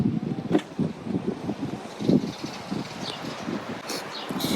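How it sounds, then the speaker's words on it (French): Strong wind buffets the microphone outdoors in Puglia, Italy, as steady rumbling gusts with fluctuating loudness, close and rough, while a person talks faintly underneath. "Il y a un vent de fou."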